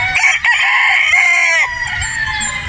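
A rooster crows loudly and close by, one long strained call that trails off into quieter background noise.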